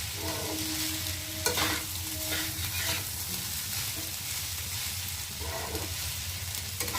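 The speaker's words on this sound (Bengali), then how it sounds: "আমার এই ভাত ভাজার রেসিপিটা কেমন লাগলো" Leftover rice being stir-fried in a pan, a loud continuous sizzle with repeated scraping and stirring strokes of a spatula, close and alone.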